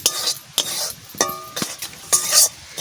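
Flour being fried in oil in a pan for homemade sandesh: several rhythmic bursts of spatula scraping and stirring over a light sizzle, close and fairly loud, with no talk.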